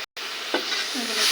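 Chili powder, turmeric and salt being stirred into a pabda fish curry with jackfruit seeds: a brief close scrape of the spoon and a soft swish over a steady hiss, with no voices.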